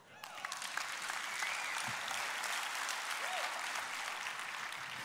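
A studio audience at a Spanish-language Christian television program breaks into applause, a fairly soft, continuous patter of clapping that holds steady for about five seconds, with some voices and laughter faintly underneath.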